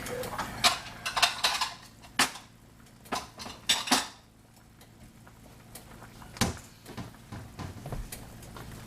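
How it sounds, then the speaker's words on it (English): A serving bowl and cutlery handled in a kitchen while hangover soup is made, giving a run of sharp clinks, knocks and clatters with quieter pauses between, close by and without talk. "Let me get my bowl."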